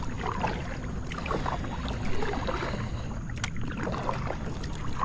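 A Pelican Catch 100 fishing kayak is paddled on open water, with soft, steady splashing and rippling under light wind noise, close and fairly quiet with no talking.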